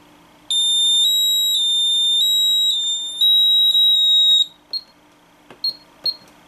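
An Arduino home security alarm set off by a short circuit gives a loud, high electronic beeping tone held for several seconds, then a few short chirps and clicks follow.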